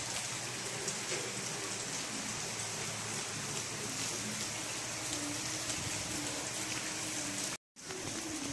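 Steady rain falls over a flooded paddy field during rice seedling transplanting, a dense continuous hiss that stays even throughout, with one brief dropout near the end.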